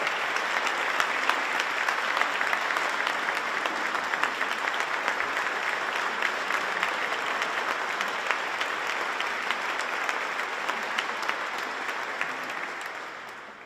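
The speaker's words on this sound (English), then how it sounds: "Let's give KSP, the Child Crime Task Force in Brianna, a big round of applause." During a governor's State of the Commonwealth address, a large audience gives sustained applause, a thick, even wash of clapping that stays strong for many seconds before tapering off at the end.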